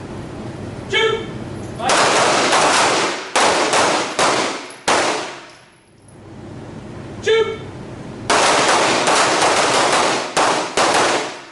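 Handguns firing during a night shooting class, with loud bursts of rapid, overlapping gunshots from a firing line, separated by short lulls and a faint voice.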